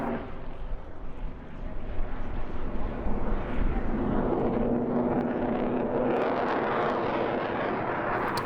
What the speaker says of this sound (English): This bizarre flying machine is the Yak 110, and it's quite simply two Yak 55 stuck together with a jet engine mounted between the two fuselages